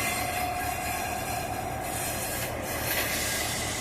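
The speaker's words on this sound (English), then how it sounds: "I'll introduce you to your locomotive here today, the 4617." Illinois Central 4617, an EMD GP9 diesel-electric locomotive built in 1954, gives a steady, close, continuous rumble with a faint high hiss and a thin tonal whine running over it throughout.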